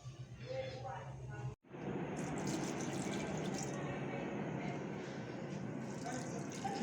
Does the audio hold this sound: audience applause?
no